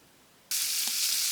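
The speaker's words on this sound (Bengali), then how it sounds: "এই যে বৌমা কলই শাক ভাজছে" Kolai greens hit a hot pan and start frying: after a short hush, a sudden loud, sustained sizzle that stays steady and close to the end.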